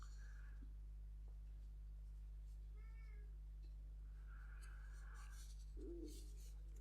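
A cat meows outside a crochet studio, wanting in: a few faint, muffled cries spread across the stretch, the last one lower and louder, over a steady electrical hum.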